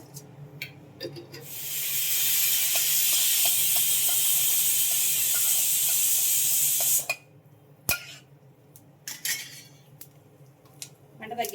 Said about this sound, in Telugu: ఆవాలు అయితే చక్కగా వేగినాయి పేలుతున్నాయి